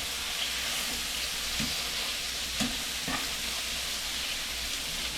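Fish with garlic left in a pan after the heat is switched off, giving a steady, soft sizzle and hiss with a few light clinks and taps of the pan.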